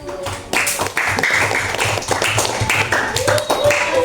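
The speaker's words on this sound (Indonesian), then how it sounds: "Beri aplaus untuk Mbak Laura dan kelompok 1" A classroom audience claps for a presenting group, a short burst of scattered, close-by clapping over a few seconds with voices mingling underneath.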